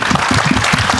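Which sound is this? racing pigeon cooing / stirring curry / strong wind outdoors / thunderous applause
thunderous applause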